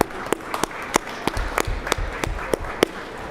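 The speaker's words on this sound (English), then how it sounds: "let's give them a round of applause here" Scattered applause from a crowd in a state legislative gallery, sharp separate claps popping out over a light, patchy clapping bed for a few seconds.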